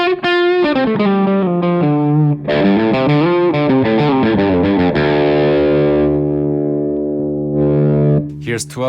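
An overdriven electric guitar through a Revv Chat Breaker pedal with its tight switch cutting bass plays a quick riff, then lets a distorted chord ring out; the tone is gritty with a thin, tight low end.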